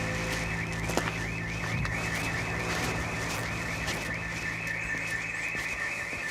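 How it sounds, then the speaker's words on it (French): Burglar alarm ringing at a house in a village, a continuous warbling electronic siren that sweeps up and down steadily, loud and unbroken over low background hum. "L'alarme qui s'est déclenchée"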